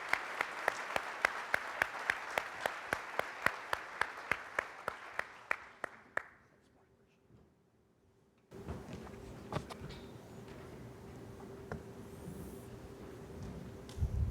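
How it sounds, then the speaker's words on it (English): Audience applause welcomes a speaker on stage at a business event, a steady burst of many hands clapping that fades out after about six seconds, followed by quieter room noise. "if you could please give a warm applause, a DEC welcome to Mr."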